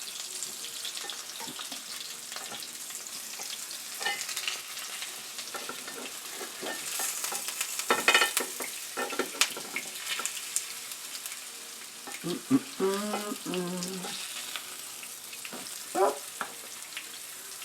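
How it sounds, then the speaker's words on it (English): Sage-encrusted halibut sizzles and fries in a pan as it is flipped, a steady crackle with brief louder bursts of scraping and spattering; a voice speaks briefly. "So I'm going to flip this fish over."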